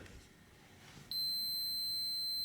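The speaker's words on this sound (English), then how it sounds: "You will listen the beep." A steady, high electronic beep from a multimeter continuity test on a desert air cooler pump's shaded pole motor wiring switches on about a second in and holds continuously to the end, following a faint rustle.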